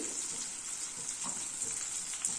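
Onions and vegetables sauté in a hot pan, giving a steady, soft sizzle with faint stirring scrapes and no talking.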